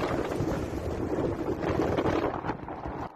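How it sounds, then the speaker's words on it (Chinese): Strong gusts from Typhoon Koinu batter Lanyu island in a continuous roaring wind that swells and buffets the microphone, then eases slightly toward the end. "狂风猛吹，风切声就像炸裂一样"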